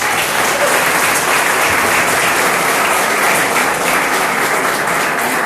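A loud, dense burst of applause fills a university political science school talk, many hands clapping together in a continuous roar without pause.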